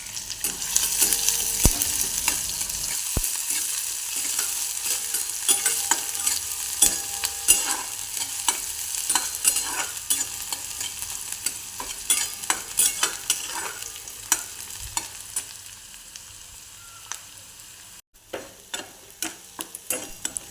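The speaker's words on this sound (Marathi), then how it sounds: "कढईमध्ये तेलाची फोडणी करून कांदा छानसा टाकून परतून घेऊयात" Onion frying in oil in a kadhai, a steady broad sizzle with scattered clicks and scrapes of stirring throughout, fairly close and alone, easing slightly near the end.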